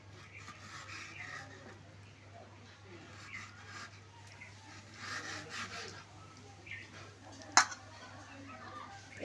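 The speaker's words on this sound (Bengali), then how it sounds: "এখন আমি পিচ পিচ করে কেটে নেব" Peeled, washed mangoes are sliced into pieces with a knife in a home kitchen, making soft, quiet scraping and rubbing cuts with faint clinks. One sharp click sounds near the end.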